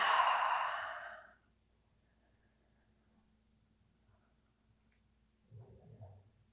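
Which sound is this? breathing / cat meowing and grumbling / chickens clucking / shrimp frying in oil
breathing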